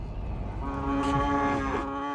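A drawn-out bovine moo from the farm district of the city-builder Cities: Skylines sounds close and steady for about two seconds, alone over a soft background hum.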